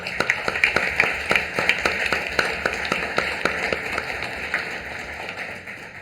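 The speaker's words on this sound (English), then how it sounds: "That deserves an applause" Audience at a St. Lucie County Board of County Commissioners meeting gives a round of applause, steady clapping that starts strong with distinct claps and gradually thins and fades toward the end.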